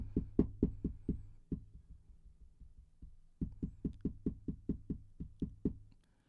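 Fingers tapping on a Shure SM58 dynamic microphone mounted on a boom arm: a fast run of sharp, close knocks with low thumpy body, a brief pause with softer taps, then another quick rhythmic burst.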